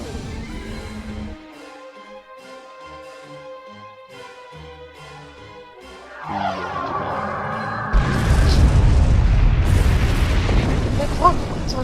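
Star Trek-style starship battle effects: weapons fire that builds into heavy booming explosions and rumbling impacts, loud and continuous toward the end, layered over a musical score.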